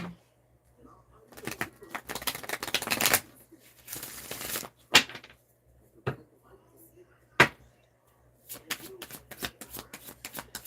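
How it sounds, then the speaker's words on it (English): Cards riffle and shuffle close up in several bursts of rapid fluttering and snapping, with sharp taps between and faint bird cooing behind. "I'll shuffle the deck for two."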